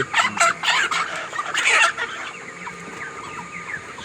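Broiler chickens inside a fenced pen cluck and squawk in loud, busy bursts near at hand, then settle into quieter scattered calls.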